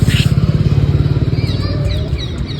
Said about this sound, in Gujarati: અમે જઈએ છીએ બાઇક લઈ